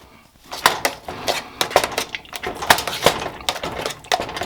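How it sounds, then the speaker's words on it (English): A potato masher works through cooked potatoes in a metal pot for shepherd's pie, giving repeated uneven knocks and clinks against the pot with soft squishing between, close and fairly loud. "I'm going to mash the rest of these with my potato masher and get them nice and creamy"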